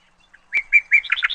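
A cartoon bird in a forest scene chirps a quick run of bright, high tweets that grow busier toward the end, clear and close with no speech.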